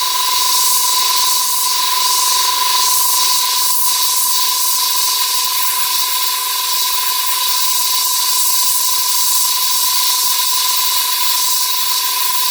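An airbrush spraying paint over a hairspray chipping layer on a winter-camouflage model gives a loud, steady hiss with a faint whine that runs unbroken and alone throughout.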